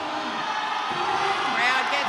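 A powerlifting crowd at the Asian Classic Powerlifting Championship roars behind a lifter's 295 kg deadlift attempt, a dense, sustained wall of cheering and shouts that swells toward the end, with a commentator talking over it.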